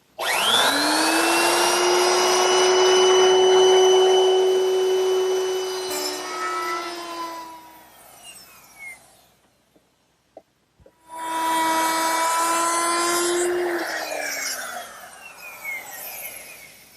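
Router fitted with a 22-degree beveling bit cuts a beveled rabbet into wood for a writing desk, a loud sustained high whine running for about eight seconds, a brief quiet gap, then a second cutting pass with the motor spinning down at the end.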